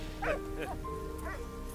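A dog in the video game Valiant Hearts gives about three short, high yipping barks over quiet in-game background sound.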